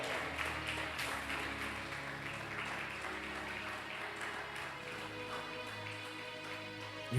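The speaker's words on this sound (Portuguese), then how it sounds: "Você pode aplaudir a Jesus Cristo." A church congregation applauds during a Sunday sermon, a sustained, fairly quiet wash of clapping from many hands that carries on evenly throughout.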